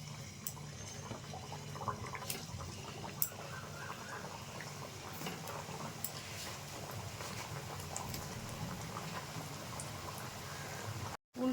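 Biscuit dough frying in hot refined oil in a wok on a low flame, giving a steady, close bubbling sizzle with scattered light crackles that runs on without pause, then cuts off abruptly near the end.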